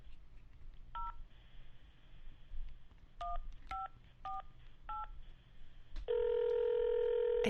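A telephone keypad beeps out a string of short, separate dialing tones at an uneven pace. A steady ringing tone follows and holds to the end.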